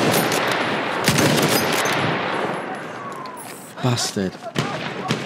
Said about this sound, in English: Some poor shooting from me.